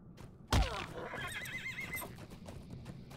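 A horse in the online game The Lord of the Rings Online lets out a loud, sudden whinny that trails off into a wavering, fluttering neigh over a low background hum.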